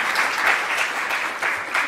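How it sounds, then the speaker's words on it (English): An audience at a university research-talk competition applauds the event organizers and volunteers, with brief, steady clapping throughout. "I'd like to just real quick give them a round of applause"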